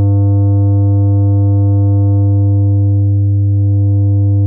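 A steady, loud soft-clipped sine wave tone holds unbroken for several seconds, with a strong low fundamental and a stack of evenly spaced, gently fading harmonics above it.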